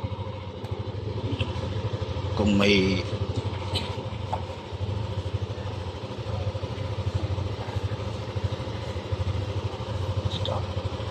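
A Yamaha NMAX v2.1 scooter in matte silver idles with a steady, close engine hum and mechanical clatter, plus a brief voice partway through.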